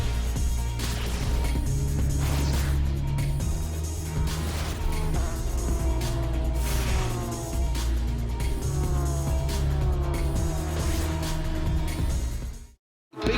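Porsche GT3 Cup race cars at Road Atlanta approach in a close battle and roar past, flat-out engine notes rising and shifting through gears, loud and sustained, before cutting out sharply at the end.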